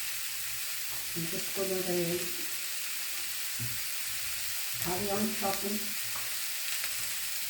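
Minced meat, cooking in its own fat, sizzles and browns in a pot with a steady bright hiss, while a person talks briefly over it.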